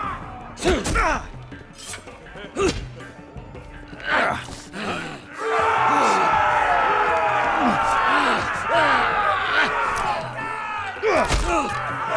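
A roaring arena crowd in the Game of Thrones Telltale video game swells into a sustained wall of cheering from about five seconds on, preceded by groans and impact thuds, with shouted voices over it.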